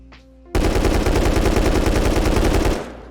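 Custom SMG fired in one sustained spray in Rust while testing recoil, a loud, close, rapid even stream of shots lasting over two seconds, then cutting off after a quiet start.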